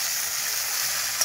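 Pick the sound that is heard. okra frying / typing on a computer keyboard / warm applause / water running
okra frying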